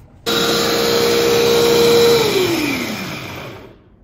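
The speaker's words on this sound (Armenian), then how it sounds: "Հիմա արագ կմանրացնենք այս մանր կտորները, որոնք մի քանի րոպեով դրեցի ջեռոցը" Electric blender or grinder whirring loudly up close as it breaks oven-dried sponge cake pieces into crumbs, starting abruptly, running steadily, then its pitch sliding down as the motor winds off.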